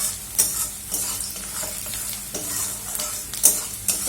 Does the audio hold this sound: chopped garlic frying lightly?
yes